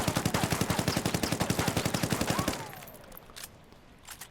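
Rapid automatic fire from an SC 4000 rifle in Ghost Recon Wildlands, a steady burst of evenly spaced loud shots lasting about two and a half seconds, then quiet game ambience.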